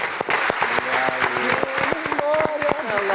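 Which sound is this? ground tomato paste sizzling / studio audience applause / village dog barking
studio audience applause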